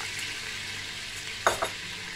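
Flour toasting in a pan with oil, a low even sizzle running throughout, broken by two quick scraping stirs close by.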